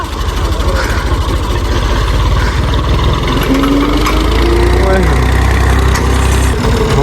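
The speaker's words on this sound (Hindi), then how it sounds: "ये वाला जो ट्रैक्टर है अब इसे पीछे कर रहे हैं" A tractor stuck with a loaded trolley hitched behind it is being reversed, its loud, steady diesel engine chugging and labouring throughout, close and continuous.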